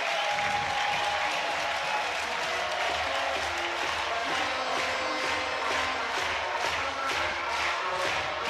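Arena crowd at a Swedish Super League floorball semifinal, Växjö Vipers against FBC Kalmarsund, applauding and cheering in a loud, steady roar that fills the hall throughout, with no clear talk on top.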